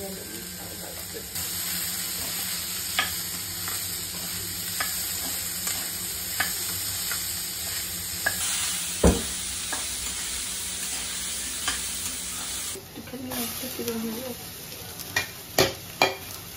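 Fried rice being stir-fried over a high flame, giving a steady close sizzle and hiss with occasional scraping and knocking of the spatula against the pan, and a louder clank midway.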